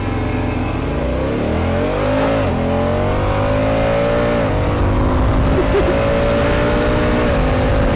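Honda Africa Twin DCT motorcycle accelerating hard off-road, its engine revving loudly and climbing through repeated automatic gear changes, close and continuous throughout.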